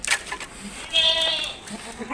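Goat bleating at a farm among a herd of goats, one drawn-out wavering cry in the middle with a shorter call near the start, with people talking nearby.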